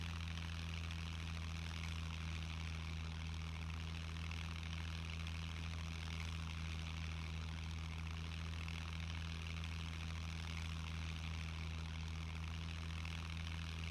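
Propeller aircraft engine in the SCUM survival video game, throttled down during a descent, giving a steady, even drone with constant low tonal hum that holds unchanged throughout, with no voices.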